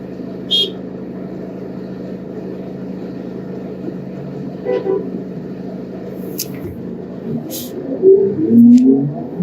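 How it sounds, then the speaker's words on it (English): Evening street traffic in Jamaica rumbles steadily at a moderate level, with brief horn toots rising near the end. "So this is not even rush hour traffic"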